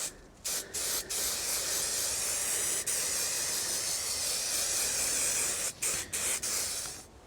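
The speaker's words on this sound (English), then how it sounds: "And when that's tacky, we spray the carpet." Contact adhesive sprayed onto four-way stretch carpet while lining a camper van: a loud, close aerosol hiss in several bursts, with short breaks between passes.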